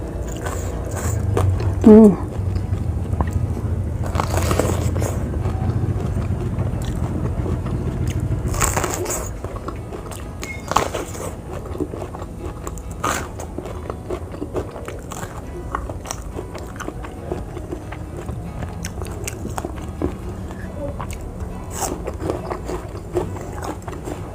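Crunchy bites and chewing of raw banana blossom and young cengkir coconut eaten with rujak chili sauce, close to the mic, with repeated crisp crunches and mouth sounds over a steady background.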